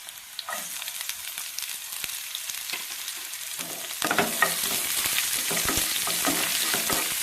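Crushed garlic and onion sizzle and fry in a pan while being stirred, a steady hiss that grows louder and fuller halfway through, with light scraping of the spoon and no talking.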